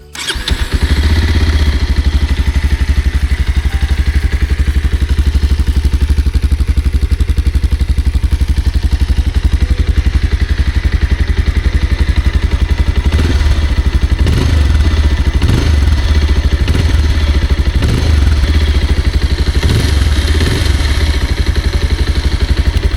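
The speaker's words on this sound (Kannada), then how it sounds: "ಸೊ ಇದು ಬಂದು ಎಕ್ಸಾಸ್ಟ್ ನೋಟ್" Loud, continuous exhaust note of a 2025 Pulsar 220F motorcycle on a highway, a deep steady rumble with rhythmic throbbing pulses, close and dominant throughout with no other sounds.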